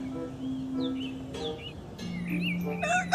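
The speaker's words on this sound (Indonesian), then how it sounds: "Ada 1 ekor ayam nih teman-teman." A chicken in the video game Jurassic World Evolution 2 gives short clucks and chirpy calls over a low, steady in-game ambience.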